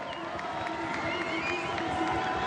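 A crowd of about 4,000 cheers and roars steadily at a canoe slalom World Cup race in Prague as a paddler sprints to the finish, a dense continuous wash of voices at moderate distance.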